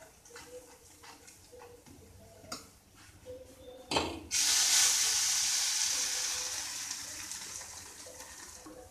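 Corn and coriander paratha roasting on a hot pan with butter, a loud steady sizzle that swells after a brief clink and then slowly fades, with faint kitchen knocks before it.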